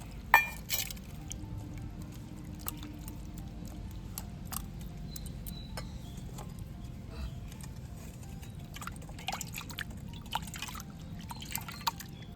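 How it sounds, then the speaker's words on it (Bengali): Freshly made chhana, milk curds rinsed in cold water, sits draining as excess water drips away, faint scattered drips and soft patter over a low steady background hum. "ছানাতে যে এক্সট্রা জলটা আছে সেটা ঝরতে থাক"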